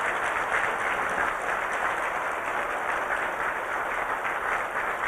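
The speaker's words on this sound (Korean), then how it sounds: "한번 크게 한번 박수해 드리세요." A church congregation claps steadily for visiting mission staff, a dense, even wash of applause filling the whole stretch with no talking over it.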